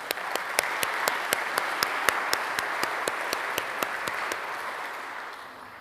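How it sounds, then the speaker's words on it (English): A seated audience at a formal evening oration applauds sponsors and supporters, with even, sustained clapping from many hands and a few sharper individual claps standing out, slowly fading toward the end. "Can we please give our sponsors and supporters a round of applause?"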